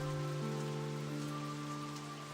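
Rain falls in the video game Tales of Graces f, a steady soft hiss of rainfall under sustained musical tones, fairly quiet and continuous throughout.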